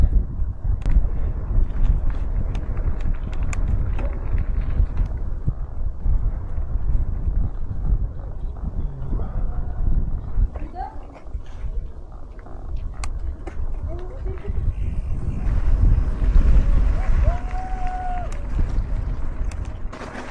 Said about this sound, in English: If the wind keeps blowing from the north like this